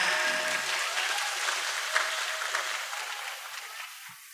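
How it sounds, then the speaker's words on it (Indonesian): Audience applause at a school briefing session: a dense wash of many hands clapping at full strength that slowly tapers off over about four seconds. "Mana tepuk tangannya?"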